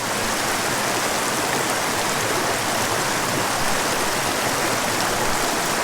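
Loud, continuous rush of creek water flowing over rocks, a dense steady wash without pauses or voices.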